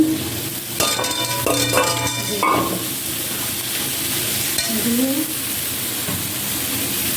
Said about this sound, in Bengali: মশলাটা পুরো ভাজা ভাজা হয়ে যাচ্ছে